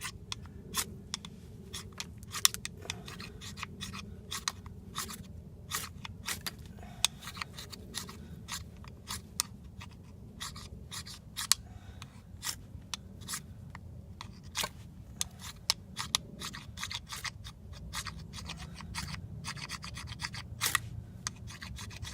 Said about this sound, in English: Gotta scrape the paint off first.